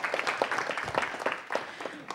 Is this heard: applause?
yes